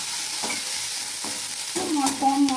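Chopped green chillies tossed into hot oil in a pan, giving a steady close sizzle with scraping stir strokes and a louder spatter burst near the end.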